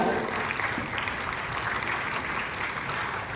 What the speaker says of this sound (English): Please help me welcome with a thunderous round of applause